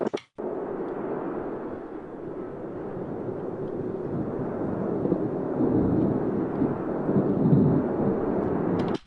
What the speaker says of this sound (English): the thunder is coming up